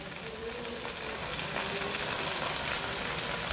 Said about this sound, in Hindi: और इसको थोड़ा सा फ्राई करेंगे। हरी मिर्च ऐड कर देंगे।